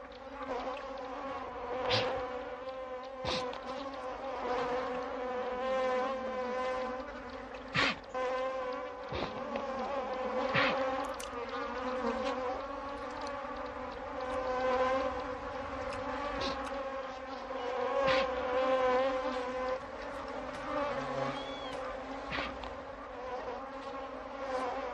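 African bees swarm with a dense, steady buzzing that persists throughout, loud and close, with occasional sharp clicks and thumps cutting through the drone.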